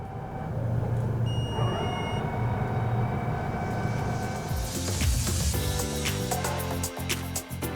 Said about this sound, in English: We can also reverse the rotation of the impeller and, with a powerful flow, eject anything that got stuck or slipped into the inlet duct.